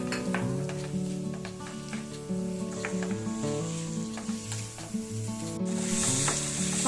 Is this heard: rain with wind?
no